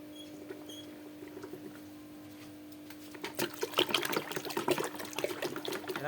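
Water is poured onto lime, and a faint trickle grows into louder, busier splashing and fizzing partway through, with nobody speaking.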